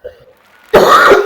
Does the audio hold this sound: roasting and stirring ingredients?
no